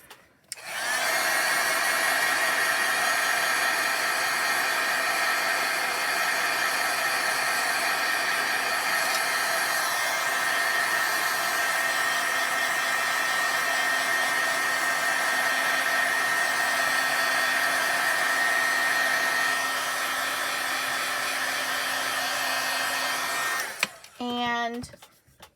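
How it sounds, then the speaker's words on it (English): A heat tool blows steadily on chalkboard paint for about twenty seconds, a loud, constant whooshing drone with a faint high whine, then clicks off and winds down at the end. "I'm going to take the heat tool to this because we want it to kind of dry a little bit."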